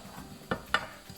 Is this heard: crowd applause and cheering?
no